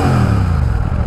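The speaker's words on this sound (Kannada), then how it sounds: "ಎಕ್ಸಾಸ್ಟ್ ಸೌಂಡ್ ಈ ಥರ ಕೇಳಿಸುತ್ತೆ." A loud, close exhaust note comes from a Royal Enfield 650 twin motorcycle as the engine is revved, a dense, rumbling throb that swells slightly.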